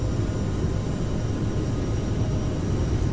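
A CRJ regional jet in a flight simulator has its engines at takeoff power, giving a loud, steady, broadband roar that stays even and continuous throughout.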